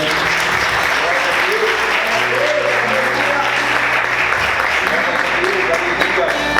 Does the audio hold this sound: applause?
yes